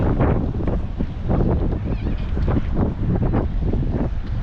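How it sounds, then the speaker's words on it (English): Gusty wind roars across the microphone aboard a tautog fishing boat near a bridge, loud and continuous with swelling pulses and a low rumble of open water beneath. "The wind's got a hold of me here."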